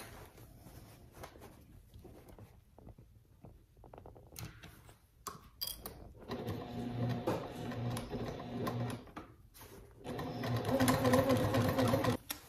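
A sewing machine stitches a fabric gusset onto a trick-or-treat bag, with bursts of rapid mechanical chattering that start and stop between quieter handling noises, growing louder and steadier toward the end.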